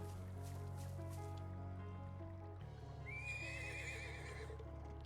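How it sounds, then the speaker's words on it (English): Horse neighing in the Trails of Cold Steel II video game, a single distant whinny rising and trembling for about a second over steady background game music. "Was that a horse?"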